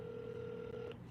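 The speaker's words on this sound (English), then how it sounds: "Answer the phone!" A telephone tone sounds during a call, a short steady electronic ring held for about a second at low level, alone without talk.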